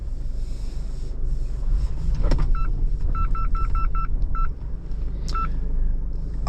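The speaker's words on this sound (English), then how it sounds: "the parking sensors are still going off" Parking sensors beep inside a 2025 Mazda BT-50 ute crawling off-road in low range: a series of short, evenly spaced electronic chirps that come in a quick run and then a lone pair, over steady engine and wind rumble.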